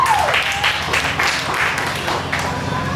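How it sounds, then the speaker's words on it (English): Audience at a county fair show in Lee County, Iowa applauds loudly, a crowd clapping in a close, busy burst with a voice speaking over the clapping at the start. "Give them a big round of applause,"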